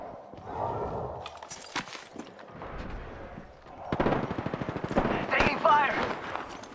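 Gunfire in the Apex Legends battle royale game rattles in rapid automatic bursts, sparse at first, then dense and loud in the second half, mixed with voices and footsteps.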